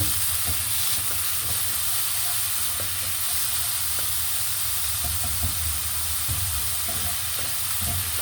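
Ground pork or beef sizzles and browns in a hot pan, a steady close frying hiss broken by occasional light scrapes of stirring, with no voices.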